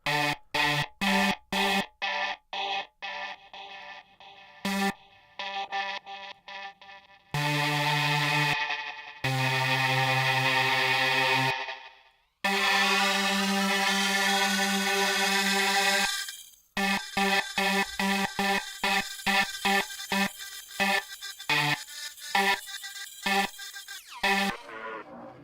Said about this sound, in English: There's this interesting like psych delay that's sometimes fun to work with.